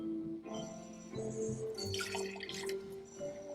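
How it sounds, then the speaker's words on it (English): A heavy two-ounce pour of port wine trickles and splashes softly into a glass, a brief quiet liquid gurgle, close by. "So this is a pretty heavy pour of port."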